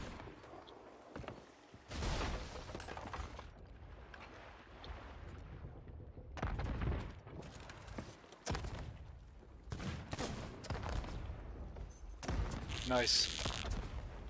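Rifle shots and scattered gunfire in the pirate video game Sea of Thieves at night from a moving ship, loud bursts over rushing wind and water noise, with a player talking.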